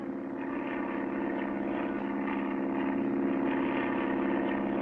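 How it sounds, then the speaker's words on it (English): A steady, droning engine hum with a low throbbing tone holds constant throughout, like a propeller plane in flight, with no voices. "Clutch and Company board their plane and begin their trip."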